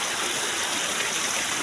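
A steady, full rush of flowing stream water fills the air outdoors, constant and close with no pauses and no voices.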